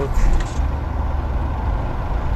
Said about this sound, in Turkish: Aracımızı çalıştırdık.